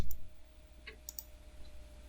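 A computer mouse clicks a few times while working in CAD software, short faint taps close by in a quiet room, one near the start and a couple more about a second later.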